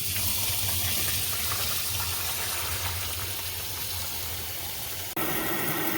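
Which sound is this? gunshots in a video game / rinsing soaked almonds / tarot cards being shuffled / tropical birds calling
rinsing soaked almonds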